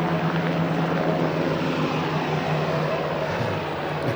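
Helicopters drone overhead above an outdoor rally at Liberty State Park, a dense continuous engine and rotor roar holding steady and fairly loud, with no speech over it.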